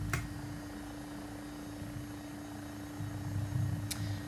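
An AW109SP helicopter spools up for takeoff in the X-Plane 12 flight simulator, its steady turbine whine and low rotor thrum holding constant and swelling slightly louder toward the end, with no voices.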